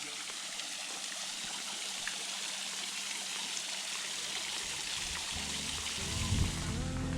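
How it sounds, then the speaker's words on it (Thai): Steady rushing water from a waterfall near Pha Taem in Khong Chiam, Thailand, a broad continuous roar, with a slight low rumble rising near the end. "มีน้ำตกด้วยนะครับ"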